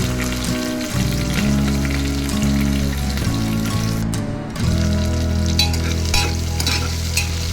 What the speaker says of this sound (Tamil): ஸ்லைஸாக கட் பண்ணி வச்சுருக்கோம் பெரிய வெங்காயத்தை சேர்த்துடலாம்